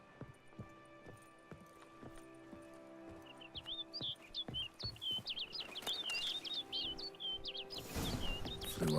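Bird chirps and tweets in The Witcher 3: Wild Hunt, a run of short, bright calls coming repeatedly over soft ambient game music and hoofbeats, growing louder toward the end.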